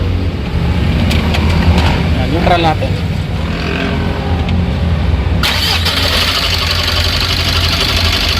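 A Mitsubishi L300 Euro 4 engine idles with a worn alternator bearing, a close, loud steady mechanical drone with a harsher rattling whir taking over in the later part, while someone talks over it.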